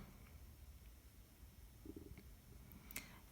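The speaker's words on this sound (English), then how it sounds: "sorry, that was my stomach grumbling" A faint, low stomach grumble rumbles quietly and continuously during a beaded earring craft session, with no talking.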